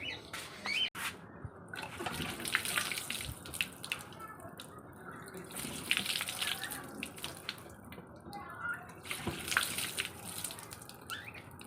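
Water running from an outdoor tap as items are washed beneath it, a steady splashing stream with drips, birds faintly in the background and a person talking over it.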